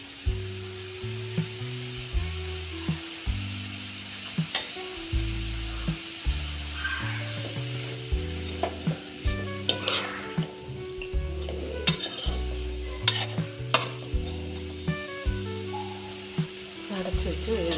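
Long beans sauté in coconut oil in a pan, a soft sizzle underneath repeated scraping and clinking of a spoon stirring against the pan at a steady rhythm, close and fairly quiet, with background music playing.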